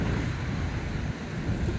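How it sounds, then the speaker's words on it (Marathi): Fast-flowing flood water surges over a submerged weir during a flood at Pandharpur, a dense, constant roaring rush heard close up with no talk. "पाणी कसल्या स्पीडनं चाललंय बघा"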